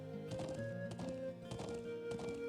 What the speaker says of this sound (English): So I actually get to ride the horses